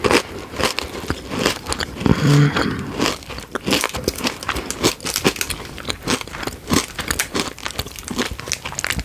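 A crunchy chocolate candy bar with a honeycomb-like filling is bitten up close. Sharp crunches are mixed with frequent crinkling of the wrapper in an irregular, busy pattern.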